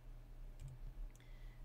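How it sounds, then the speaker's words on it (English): A few soft, isolated keystrokes on a computer keyboard tap quietly over a low steady hum, with no voices. "I am typing a search of robot"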